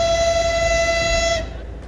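A Lviv–Truskavets electric commuter train pulls into the station sounding a steady tonal horn that holds for over a second and then cuts off, with low rumble beneath.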